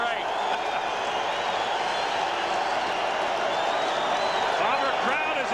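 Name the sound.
Winnipeg Blue Bombers football crowd cheering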